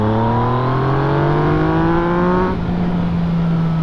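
A Yamaha XSR 900 motorcycle accelerates hard in its most aggressive riding mode A, engine note climbing steadily through the revs before a gear change, loud and close with no talk.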